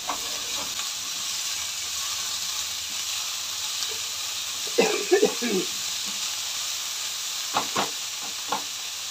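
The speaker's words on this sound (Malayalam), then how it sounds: "ഇതൊന്ന് ഇത്രയും ഞാനൊന്ന് വഴറ്റിയെടുത്തതേ ഉള്ളൂ." Chopped vegetables salted and sautéing in a pan give a steady soft sizzle and hiss, with a few brief scraping stirs toward the middle and near the end.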